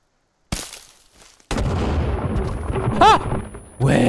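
A grenade goes off in the Sons Of The Forest video game, a sudden loud close blast followed by a rumbling tail and a short cry, with game sounds coming back afterwards.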